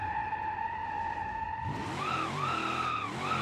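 In the BeamNG driving game, a car holds a drift with a sustained tire screech that wavers and bends as the slide changes, over a steady engine drone, loud and close.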